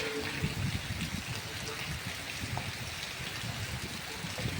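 Heavy monsoon downpour pouring steadily over open farmland just after sowing, a dense continuous hiss of rain with a busy spatter of drops close by and no letup.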